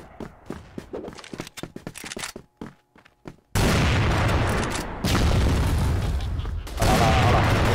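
Gunfire in a CrossFire online shooter match: sharp rifle shots and footsteps at first, then a loud, continuous roar of heavy firing and blasts fills the rest, with some game speech mixed in.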